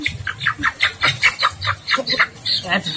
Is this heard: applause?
no